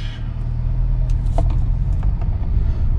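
A 2020 Hyundai Creta with a dual-clutch automatic pulls away under paddle-shift upshifts: a loud, steady low engine drone heard from inside the cabin, with a few light clicks over it.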